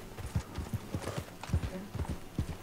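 Horse hooves clip-clop in a steady, rhythmic trot in a Western video game set around Blackwater, a soft, close series of dull thuds.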